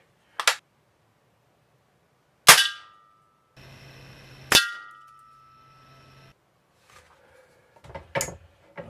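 Air rifle pellets, fired from a Daisy 880 and a Ruger Air Hawk Elite II, strike a metal target in sharp separate clangs several seconds apart, each with a brief ringing tail.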